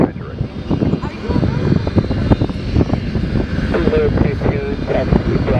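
An Antonov An-225 Mriya's engines taxi at Toronto Pearson Airport with a loud steady roar that stays constant throughout, and radio voices are heard under the engine noise.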